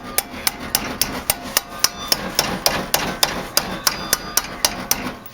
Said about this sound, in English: I'll go ahead and hammer on down and see what happens.